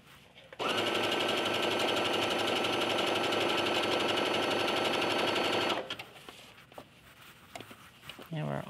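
A sewing machine stitches fabric in one continuous close whirring run of about five seconds, followed by quieter handling sounds.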